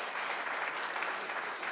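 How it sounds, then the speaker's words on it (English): Dense, steady applause from an audience at a blockchain hackathon event in Vizag, sustained at even strength for its whole length with no voices on top. "a huge round of applause for Yusuf"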